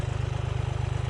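Swaraj 855 tractor engine idling with a steady, rapid low-pitched chug, loud and close, running alone without voices.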